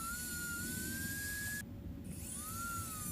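A rotary tool trimming the nose panel of a Chevrolet Chevelle whines steadily and loudly at close range, its pitch dipping briefly as it bites into the panel.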